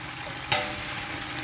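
Tomato puree frying in a deep pot for Nigerian party jollof rice, a steady broadband sizzle with a sudden brief splash or stir burst partway through.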